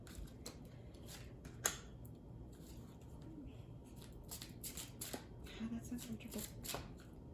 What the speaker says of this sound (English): I don't usually shuffle this deck this way